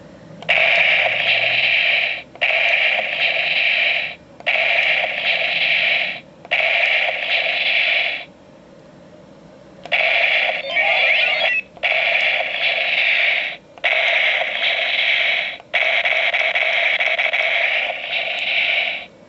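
Repeated electronic sound effects from a Kamen Rider IXA toy transformation belt blare in bursts of a second or two, separated by short gaps, bright and buzzy like a tinny speaker.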